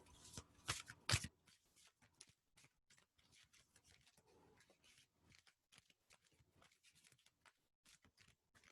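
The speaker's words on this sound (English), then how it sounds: "These cards are so huge, they're hard to shuffle." Stiff, oversized cards are shuffled, starting with a few loud riffling bursts, then a long run of soft, irregular taps and slides, quiet and close.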